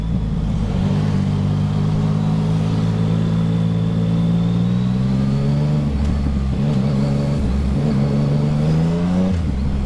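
Yamaha XSR 900 motorcycle engine revving loudly up close, with rising and falling harmonic tones that climb steadily, then dip and climb again.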